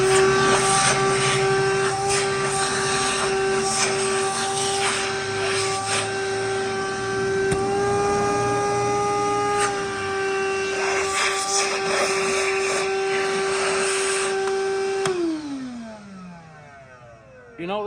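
A Hercules Dual Power portable vacuum runs loudly and close with a steady high whine and airy roar for about fifteen seconds, then winds down with a falling pitch as it shuts off.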